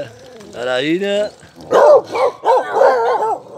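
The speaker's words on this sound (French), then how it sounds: "Et ça, c'est les petites femelles. Les femelles teckels." Small female dachshunds let out several sharp yipping barks in quick bursts, close and loud. A person speaks briefly just before them.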